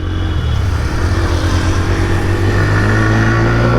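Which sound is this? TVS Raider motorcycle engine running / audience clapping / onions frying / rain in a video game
TVS Raider motorcycle engine running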